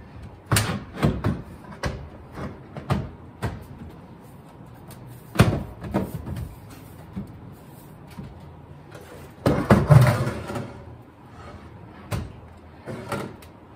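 A series of sharp wooden knocks and bumps as a rebuilt vintage trailer icebox door is shut and tested, several spaced clicks and thuds, close by with a louder cluster near the end.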